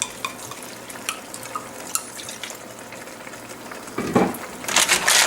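Mussels in broth with a splash of white wine, Provençal style, get stirred in a pot, with light clinks and scrapes that swell into a louder burst of clattering and bubbling toward the end.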